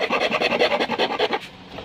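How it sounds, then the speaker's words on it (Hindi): A hacksaw blade cuts a switch board in quick, rhythmic rasping strokes, about a dozen close, bright scrapes that stop short, leaving quiet. "कट करने के लिए हमने ये आरी ब्लेड ले लिया है। चलिए फटाफट इसको कट कर लेते हैं।"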